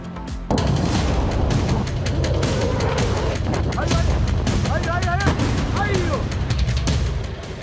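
Repeated blasts and gunfire-like booms crack through a war zone, loud and close, with sharp irregular bursts over a constant rumbling backdrop and faint voices and whistling tones mixed in.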